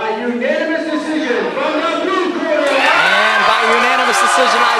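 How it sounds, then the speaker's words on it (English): A crowd at an amateur boxing event cheers and whoops loudly after the decision is announced, swelling halfway through, with an announcer's voice talking over the noise. "A lot of passionate fans in the crowd."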